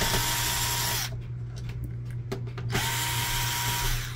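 A power drill whines in short bursts while backing screws out of the side panels of a Canon Pixma MX870 printer, with brief pauses and clicks between runs, loud and close.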